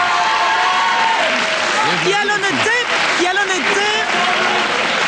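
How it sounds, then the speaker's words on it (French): Loud, sustained audience applause for a school quiz team fills the room during a televised quiz competition while someone speaks over it. "On peut applaudir cette équipe"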